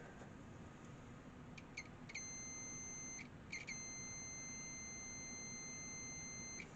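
A multimeter sounds its continuity beep while probing wiring in a 1960s Unitra Ramona Polish radio: a couple of short chirps, then a steady high tone held for several seconds with a brief break, set over low background noise.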